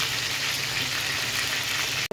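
Pieces of roast chicken fry in hot oil in a pot, giving a steady, dense sizzle close by with no talking.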